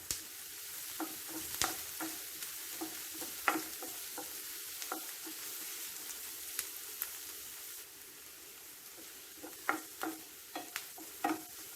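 Sliced onions sautéing and being stirred in a pan while preparing kappa masala dosa filling, a steady soft sizzle broken by repeated scraping stir clicks, close and alone with no talk.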